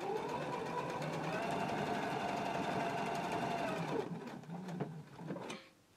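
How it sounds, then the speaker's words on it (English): A sewing machine top stitches a quarter inch across the top of a pants flap, running in a fast continuous whir for about four seconds, then slowing into a few short stop-start bursts before falling quiet. "we're going to top stitch at 1/4 inch right across the top of the flap"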